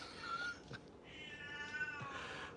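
An elderly, slightly deaf cat meows loudly and insistently, two long drawn-out calls separated by a short pause, close by and alone with no talk over them.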